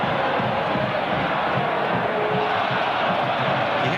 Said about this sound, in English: The crowd are impatient, not only with Kluivert, but with the whole team